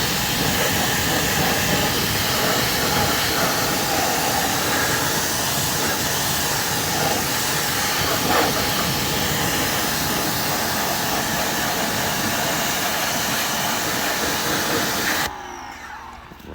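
Water spray hissing from a pressure nozzle while rinsing a car's wheel well during a hand wash, a loud continuous broadband rush lasting many seconds before cutting off abruptly near the end.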